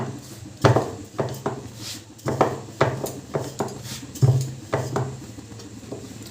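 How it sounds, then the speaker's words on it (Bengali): A rolling pin knocks and rolls lightly over stuffed wheat-flour dough filled with sattu on a board, with a series of irregular wooden thumps and soft scraping strokes, close by. "আবারও একটা বেলে নিচ্ছি একটু হালকা করে বেলছি বেশি চাপ দিইনি"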